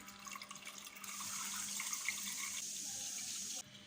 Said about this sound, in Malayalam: അതിലോട്ട് നമുക്ക് ആവശ്യത്തിന് പാല് ഒഴിച്ച് കൊടുക്കാം.